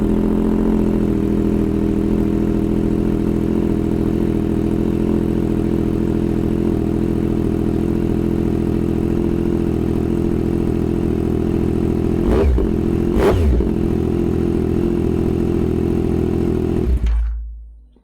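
A 2024 Yamaha MT-09 with a Racefit Growler X aftermarket exhaust idles loudly and steadily with a deep, throaty rumble, gets two sharp revs near the end, then cuts off abruptly.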